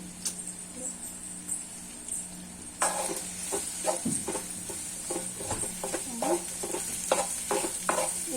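Ginger garlic paste and chilli powder frying in a pan, a constant bright sizzle broken by repeated scraping stirs and clinks of the spoon, close and fairly loud.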